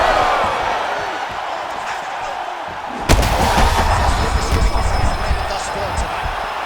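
Heavy strikes land in a UFC 5 video game bout between Colby Covington and Daniel Rodriguez, a sharp impact thump cutting through a steady roaring arena crowd, with a commentator talking throughout.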